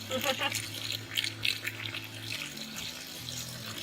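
Hot water running from a tap to fill a basket for washing raw fiber, a steady close splashing stream with a low hum beneath and a person talking over it.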